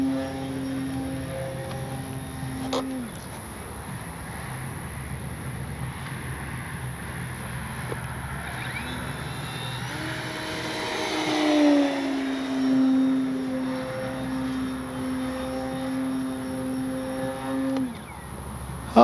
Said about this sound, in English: Oh man, what a great flying plane.